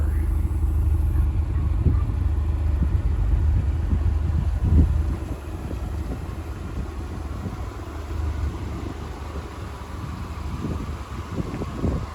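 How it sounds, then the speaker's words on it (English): A 2004 Audi TT Quattro with 225 horsepower runs at a steady low idle, a constant close rumble that carries on throughout, with some faint background noise. "The vehicle is running. Audi TT Quattro, 225 horsepower."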